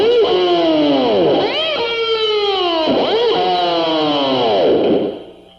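Electric guitar vibrato bar dive bomb tricks, with notes repeatedly swooping down in pitch and bouncing back up in a wobbling, effected tone, several dives in a row, loud and near.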